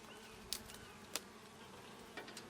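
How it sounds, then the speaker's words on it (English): Honey bees buzz around an open hive during a July inspection, a faint steady hum with a few brief louder clicks and knocks. "Bees are still doing okay over there"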